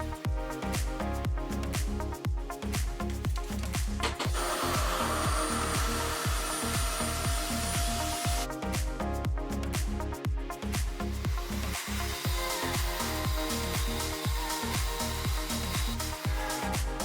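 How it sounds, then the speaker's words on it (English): A RevAir hair dryer blow drying type 4b/c hair, a loud, continuous rushing airflow with a steady pulsing rhythm running throughout, close to the listener. "So I'm gonna go ahead and finish blow drying this part now that it's all been detangling."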